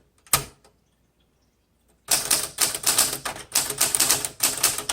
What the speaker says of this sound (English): let's go ahead and do our typing demo